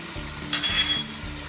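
Meat sauce with minced garlic, red pepper flakes and fennel seeds sizzling steadily in a pan while it is stirred, a close continuous hiss with faint scraping.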